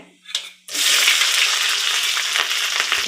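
Black pepper and green chilies hit hot oil in a pan for kara pongal and burst into a loud, continuous sizzle that stays close and steady, with a few faint stirring knocks.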